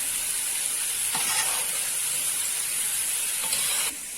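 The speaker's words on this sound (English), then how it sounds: "Now we have added some ginger over the top of it. Now stir it little bit." Rice with ginger stirred in a pot for Kabuli pulao, a continuous close sizzle and hiss with brief swells of scraping, no voices.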